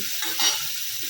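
Lachha dough fries in hot oil in a pan, giving a steady, close hiss of sizzling that swells briefly midway through the short moment.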